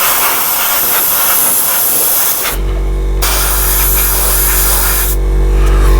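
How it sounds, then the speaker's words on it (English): An airbrush sprays paint onto a Kotare Spitfire Vb scale model in loud, close hissing bursts. The spray pauses briefly twice, and a steady low hum from the compressor continues underneath. "use the light, catch the light to make sure the entire model is, the entire area you're spraying is absolutely covered"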